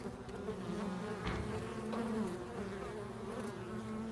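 A steady bee buzz drones close by in a greenhouse for several seconds, fairly loud and continuous over the low background hum of a solar fan, with no talking.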